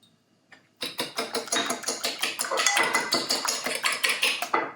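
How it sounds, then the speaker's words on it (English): Banana bread batter being mixed in a bowl with a fork or whisk, rapid rhythmic clinking and tapping against the bowl, steady and close. "using a fork or a whisk if you have one"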